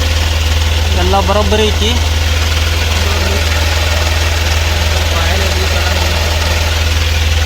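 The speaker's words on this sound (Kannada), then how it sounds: "ಯಾಕೆ ಗಾಡಿ ಸೌಂಡ ಕಡಿಮೆ ಬರೋದೈತಿ" A vehicle engine idles with a steady, loud, low drone and a thin, weak tone, suspected to have a dynamo fault. Someone speaks briefly over it.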